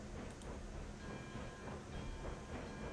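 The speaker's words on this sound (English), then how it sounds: "let's see if we can move this here locomotive" A locomotive in the video game RailRoads Online working as it starts to move, giving a steady mechanical rumble with light rhythmic pulses throughout, moderately loud and with no voices over it.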